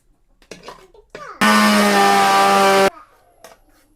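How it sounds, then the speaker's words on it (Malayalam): A mixer grinder runs loud and close for about a second and a half, grinding curry ingredients such as chilli, coriander and turmeric powders. Faint voices and rustling come before and after it. "ഇനി ഇതെല്ലാം പാടെ കൂടിയിട്ട് നമ്മളൊന്ന് മിക്സിയിൽ അരച്ചെടുക്കട്ടെ."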